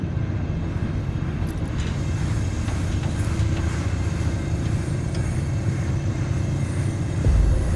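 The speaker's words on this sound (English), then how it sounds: "Warning, train inbound." A train in Cyberpunk 2077 rolls past in a steady, loud, continuous rumble with a faint rattling texture, building slightly at the very end, with no voices.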